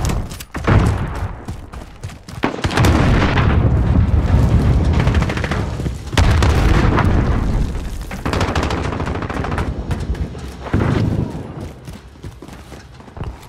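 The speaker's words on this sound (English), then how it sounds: "Cruise missile, go for launch." Heavy explosions and rumbling blasts in Call of Duty Modern Warfare multiplayer Domination, with a cruise missile strike, several loud booming impacts separated by brief gaps, mixed with gunfire crackle.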